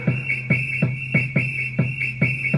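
A bright whistled melody from a song repeats in a steady looping rhythm over a pulsing electronic beat, loud and upfront.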